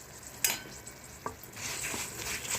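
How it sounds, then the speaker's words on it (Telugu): Mustard seeds, cumin, fenugreek, dried red chillies, garlic, urad dal, chana dal, coriander seeds and sesame seeds fry in oil for a chutney tempering. A soft, faint sizzle runs throughout, with a few sharp clicks from stirring against the pan. "బాగా వేగిపోతుంది"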